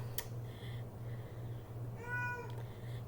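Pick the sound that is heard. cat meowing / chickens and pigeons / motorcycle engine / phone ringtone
cat meowing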